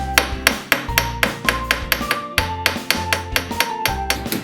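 Rapid metallic hammer strikes shape a copper wire replacement part for the combination lock of a snooker cue case, about twenty sharp close taps in an uneven, steady rhythm with ringing tones between blows.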